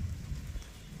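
Raindrops fall from a mango tree, a dense, soft patter with low rumbling texture that stays steady and close throughout, no voices.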